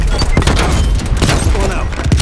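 In a Call of Duty: Cold War multiplayer match, a C4 charge detonates with loud, rumbling booms. Dense gunfire and low thuds run through the whole stretch.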